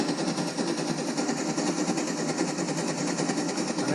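A homemade engine runs in a steady, loud mechanical whirr with fast, even clattering from its valves, continuous and close up throughout.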